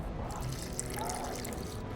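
Water poured into a flask in a video game, a short, faint trickling and splashing stream lasting about two seconds.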